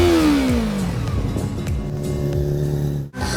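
A car engine revs hard and loud, its pitch falling and then settling into a steady roar with gear-like shifts, close and continuous until a brief cutoff near the end, with no talk.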